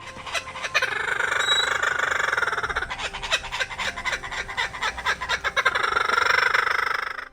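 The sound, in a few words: laughing kookaburra call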